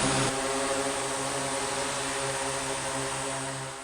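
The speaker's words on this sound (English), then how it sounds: "Unmanned autonomous vehicles, or UAVs, better known as drones" Drones flying inside a Boeing hangar laboratory, giving a loud, steady buzzing whir with a constant hum that carries through the whole stretch, easing slightly toward the end.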